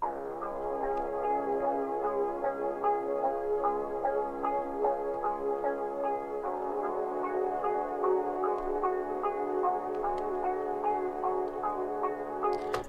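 A bright, high-pitched, pitched-up half-time melodic loop with plucky repeating notes over sustained tones, playing steadily without any voices.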